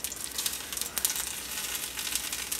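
A scallion pancake fries in hot avocado oil in a cast iron skillet, a steady close crackling sizzle with fine popping throughout and no talk.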